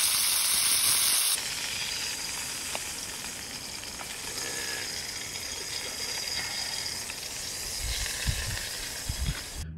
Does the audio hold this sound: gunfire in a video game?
no